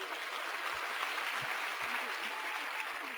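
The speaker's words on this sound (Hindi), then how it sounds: "तो एक जोरदार तालियां हो जाए" Audience applause at a talk, a steady, full wash of many hands clapping at an even level, with a few faint low thumps underneath.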